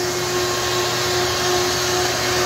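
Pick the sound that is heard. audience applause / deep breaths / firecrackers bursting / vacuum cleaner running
vacuum cleaner running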